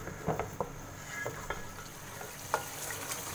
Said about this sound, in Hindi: इसको जब तक फ्राई करें, जब तक ये सारे मसाले अच्छे से फ्राई हो जाएं